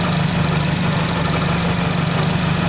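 A Nissan car engine idles with a seized A/C clutch, a loud, steady, rough drone with a low throbbing pulse and no talking.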